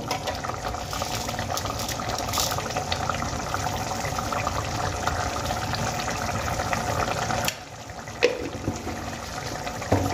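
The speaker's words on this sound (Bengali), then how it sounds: "দেখো এখানে গ্রেভি আমার খুব সুন্দর ফুটতে শুরু করে দিয়েছে" Egg masala curry gravy made with tomato and sour yogurt bubbles in a pan, a steady close-up simmering hiss with wet popping, briefly dipping near the end before resuming, with no talking.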